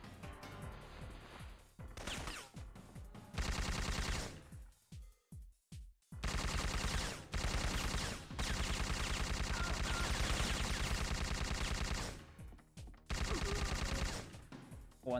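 Bursts of rapid automatic gunfire in the Syphon Filter video game, several loud sustained volleys separated by short pauses and a few single sharp shots, with no talk.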